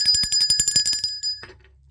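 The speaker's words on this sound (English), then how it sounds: "Let's ring the bell for that." A small bell is rung rapidly in a bright, trilling burst of about a dozen strikes, then stops abruptly, leaving a short ringing decay and quiet.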